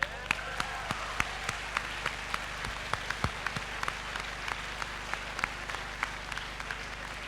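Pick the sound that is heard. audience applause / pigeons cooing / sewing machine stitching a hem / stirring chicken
audience applause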